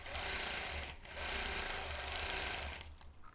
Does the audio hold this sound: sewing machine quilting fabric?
yes